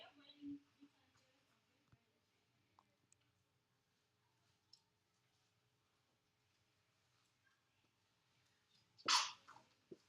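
A single sharp sneeze bursts out near the end of a long, quiet stretch in a classroom, loud and brief against faint room noise.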